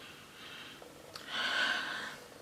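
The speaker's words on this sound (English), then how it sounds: "maybe I shouldn't like sniff it like that" Someone takes a quick, close sniff of hair gel, a short breathy inhale rising then fading, soft and alone.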